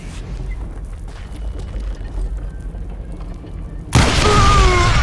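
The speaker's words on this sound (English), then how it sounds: "All it takes is one tiny spark, and boom." A dynamite explosion in the Western shooter game Call of Juarez: Gunslinger hits as a sudden loud, broad blast about four seconds in, following a low rumbling game soundscape and sustaining its roar to the end.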